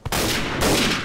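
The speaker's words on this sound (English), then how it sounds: "Nice shot, Blaine." Gunfire in the World War II shooter game Day of Defeat: Source, a loud, close blast followed by a sustained roar of rapid shots with a second burst near the end.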